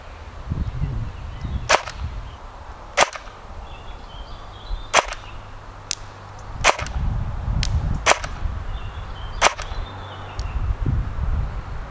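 An airsoft rifle fires 0.32 g BBs at a 40-metre target, about seven sharp, separate cracks spaced a second or two apart, close and loud over quiet outdoor background noise.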